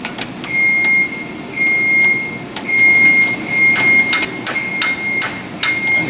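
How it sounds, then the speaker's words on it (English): A torque wrench tightens the front lower control arm nut on a 2007-2011 Honda CR-V, a close series of sharp metallic ratchet clicks over a steady tone and a low background hum. "Torque it down to 78 foot-pounds."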